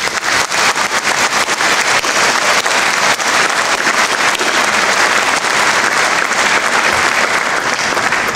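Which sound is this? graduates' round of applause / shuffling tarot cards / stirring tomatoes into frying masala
graduates' round of applause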